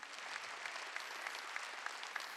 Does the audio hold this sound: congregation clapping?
yes